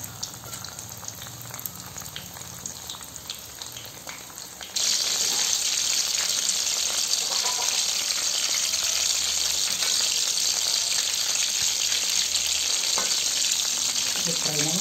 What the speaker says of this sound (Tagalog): i-deep fry lang natin yan sa katamtamang apoy